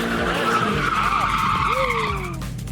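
A car drifting with a handbrake-initiated skid gives a loud, sustained tire screech over a revving engine, with rising and falling pitch sweeps as the slide continues, fading slightly at the end.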